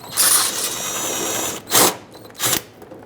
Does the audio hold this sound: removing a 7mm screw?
yes